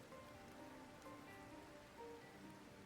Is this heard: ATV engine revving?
no